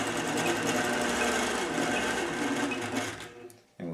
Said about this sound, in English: and we'll turn on the sewing machine